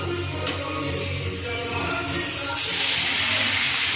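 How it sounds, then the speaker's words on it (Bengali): Water is poured into a hot pan of fried, spiced potatoes, bringing a rising hiss and steamy sizzle that grows louder toward the end, close up with faint background noise. "দেখুন এবার আমি এর মধ্যে জল দেবো"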